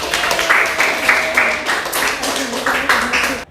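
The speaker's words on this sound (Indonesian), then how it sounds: "tepuk tangan dulu untuk kelompok" Classmates applaud a group that has just presented in an Arabic language lesson, a steady patter of hand claps close by, with a voice talking over it.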